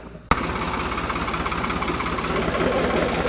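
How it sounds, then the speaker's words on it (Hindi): A tractor engine cranks and catches with a sudden burst, then settles into a steady, loud, throbbing idle close by, rising slightly in strength as it runs, with no voices. "ट्रैक्टर हमने स्टार्ट कर लिया है"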